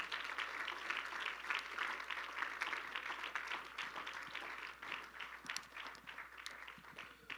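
A church congregation applauds together, a faint, steady patter of many hands clapping that swells and thins over several seconds, heard from a distance with a low hum beneath.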